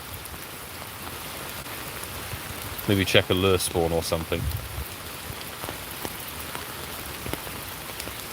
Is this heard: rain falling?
yes